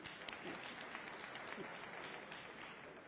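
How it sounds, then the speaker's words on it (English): Faint, distant applause from a summit audience in a large hall, a soft continuous patter of many hands with a few sharper claps and a murmur of voices underneath. "A big round of applause to their excellencies."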